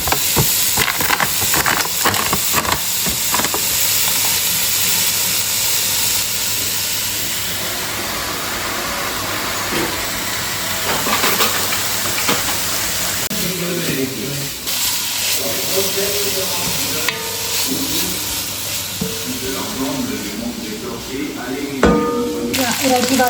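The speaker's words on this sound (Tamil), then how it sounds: "இறைச்சி வதங்கி வந்துருக்கு." Meat sautés in fat in a home kitchen pan, a continuous sizzle and hiss with occasional stirring scrapes, loud and close, while people talk intermittently over it.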